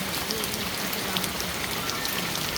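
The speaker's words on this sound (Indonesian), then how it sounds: "sampai di sini udah jam 2 siang masih hujan gini nih" Steady rain pours down in the afternoon along the road near Cibungur, a dense, even hiss of drops on surfaces that runs unbroken throughout with no voices.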